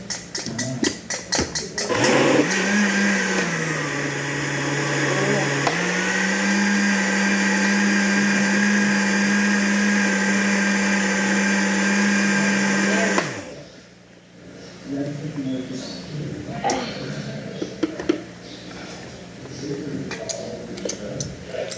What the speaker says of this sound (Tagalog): I-blender ulit natin.